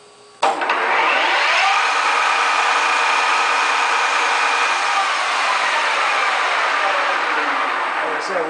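A 14 by 40 inch gap bed engine lathe spinning at high spindle speed, around 1800 RPM, starts abruptly and holds a steady, loud, whining mechanical drone with a faint rising tone.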